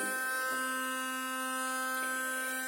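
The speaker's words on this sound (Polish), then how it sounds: "Tutaj mamy szczoteczkę Xiaomi" A Xiaomi Soocas X3 electric toothbrush runs submerged in water, giving a steady, loud motor whine that holds for the whole stretch with no talking.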